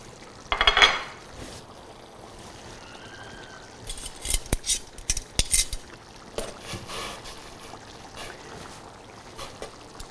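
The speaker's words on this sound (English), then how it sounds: "So I'm going to put my noodles straight in there." Fresh egg noodles dropped into a pot of boiling water, giving a few splashy clatters and light bubbling amid close kitchen handling sounds, with no one talking.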